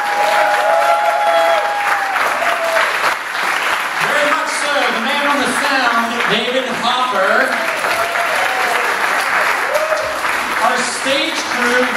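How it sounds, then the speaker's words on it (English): Audience at a 2014 student talent show at Stanbridge Academy applauds steadily, with cheering and whoops rising over the continuous clapping throughout. "So can I get a round of applause for all the staff?"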